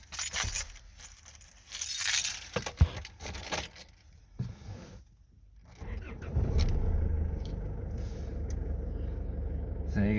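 Keys jangle loudly and close in a few quick shakes while someone fumbles for them, before a diesel engine of an Isuzu Rodeo/Amigo with a 4JH1-TC 3.0 turbo diesel starts and settles into a steady idle rumble.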